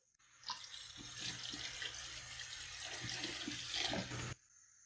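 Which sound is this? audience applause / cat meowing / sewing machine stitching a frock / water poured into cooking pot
water poured into cooking pot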